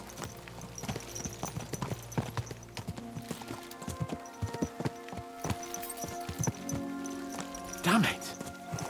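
Horses on a road in the video game Kingdom Come: Deliverance II, a rhythmic clip-clop of hooves with a brief whinny near the end, under talk and a low game soundtrack.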